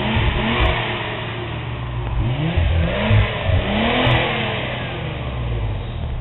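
Aftermarket exhaust on a Nissan 300ZX twin turbo, 350Z or G35 revving hard, a loud, close, steady roar that swells in several throttle blips with no talk over it.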